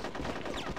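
Gunfire from the video game Conker's Bad Fur Day, a short, dense burst of rapid shots at moderate level with no talking.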